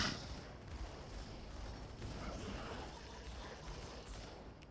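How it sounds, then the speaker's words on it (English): Pistols firing in the video game Grim Dawn, a dense run of overlapping shots and impacts that blur into a steady clatter at fairly even loudness, with no voices. "These pistols still do work"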